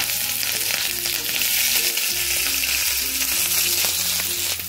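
Green chillies sizzle in a small amount of hot oil with mustard seed tempering, a steady, close crackle over background music with no talking.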